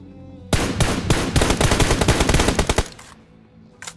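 Rapid automatic gunfire in a mobile battle royale game, a loud, dense burst of quick shots for about two seconds, then a pause and one short final burst.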